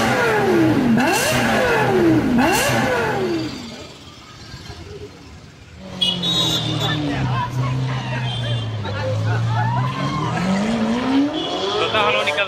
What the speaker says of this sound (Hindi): अभी गाड़ी टेक ऑफ करने के लिए पूरी तरह से रेडी है